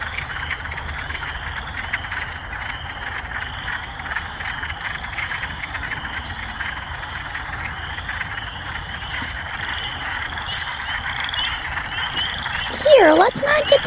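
Chorus of frogs croaking continuously outdoors at moderate distance, a dense rhythmic trilling mass, with a brief voice and some handling noise near the end.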